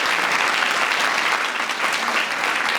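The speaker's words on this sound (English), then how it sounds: "if we could give a round of applause to Weyerhaeuser" Steady, dense applause from the audience at the 2012 MeckEd Teachers of Excellence reception and awards program, even in strength throughout, with no voices rising above it.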